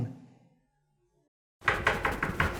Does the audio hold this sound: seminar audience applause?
no